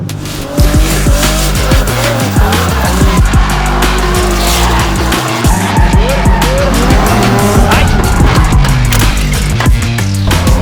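Car drifting on a kart track, loud sustained engine roar with repeated tire squeals and skids throughout, close and continuous.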